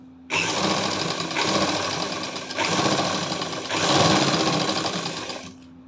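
A sewing machine stitching lace onto a kurti, a loud close rapid mechanical chatter that starts abruptly, runs in a few bursts with slight pauses and speed changes, then stops.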